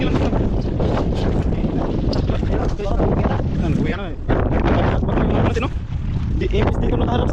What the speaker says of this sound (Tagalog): naglakas lalo yung hangin mga idol.